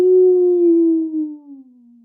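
A single wolf-like howl holds a steady, loud tone and then slides gently downward as it fades, heard alone with no talking.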